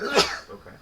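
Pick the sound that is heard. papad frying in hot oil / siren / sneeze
sneeze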